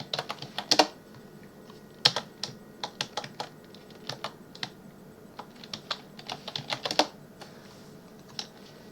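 A command is typed on a computer keyboard at a Linux terminal, a close run of irregular key clicks in quick bursts with short pauses, the loudest taps standing out, with no talk.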